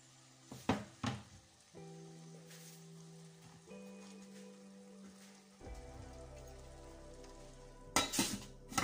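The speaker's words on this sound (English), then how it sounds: "My cabbage cooking very well there" Cabbage and beef cook together in a pan, giving a steady sizzle with a crackling, rain-like patter, punctuated by a few louder clatters near the start and end.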